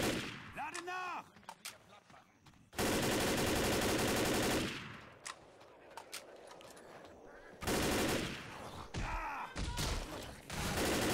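Gunfire against zombies in Left 4 Dead, loud bursts of rapid automatic shots and heavier blasts in dense volleys separated by quieter stretches with game groans and ricochet-like ringing.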